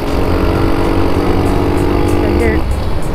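Madass motorcycle engine running steadily during a ride, a loud continuous mid-pitched drone with a brief pitch shift near the end, heard close up with wind noise.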